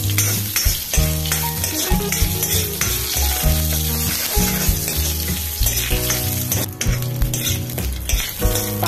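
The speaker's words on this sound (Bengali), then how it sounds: "এবার আমি একটু তেল দিলাম, আবার একটু পাঁচফোড়ন ছাড়লাম, তেজপাতা দিলাম।" Panch phoron spices and a bay leaf fry in oil for a curry of rohu fish, potato and pointed gourd, giving a continuous sizzle and crackle with occasional utensil clinks under a steady music bed.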